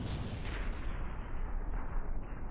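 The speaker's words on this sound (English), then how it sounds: "we're having explosions in the backside of the Gimle" Explosions tear through the rear of the battleship Gimle in the From the Depths video game, a dense, loud rumbling barrage of blasts without pause.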